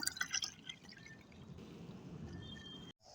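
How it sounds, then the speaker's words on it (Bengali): Plain water is poured into a container of homemade liquid garden fertiliser, a soft, steady splashing trickle heard close and fairly quiet, ending abruptly, with no talk. "এক পাত্র তরল অন্য পাত্রের মধ্যে ঢেলে নিলাম সমপরিমাণ সাধারণ জল এটাও ঢেলে নেব"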